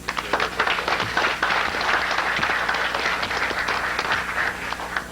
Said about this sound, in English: So let me just ask that all of us here, applaud those volunteers.